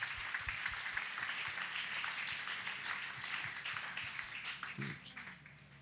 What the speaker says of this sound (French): Acclamez. Let's clap.